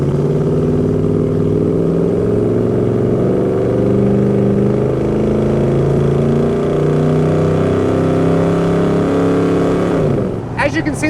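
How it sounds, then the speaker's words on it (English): A 1977 GMC High Sierra pickup with a crate 350 V8 and 700R4 transmission pulls away on a drive, its engine a steady, loud droning rumble with rising harmonics as it accelerates and shifts, ending in a brief clatter. "Roll into that little crate motor here real quick."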